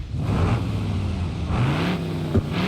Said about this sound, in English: It still uses the sound for the flathead though.